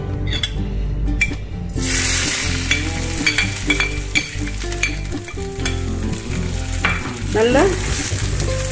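Ground paste is added to hot oil in a pan for thuthuvalai rasam, bursting into loud continuous sizzling and spattering with stirring scrapes, while a voice speaks briefly.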